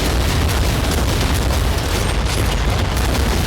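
Grenade and rocket blasts in the first-person shooter Brutal Doom merge into a dense, continuous roar of booms, loud and sustained throughout, with no talking over it.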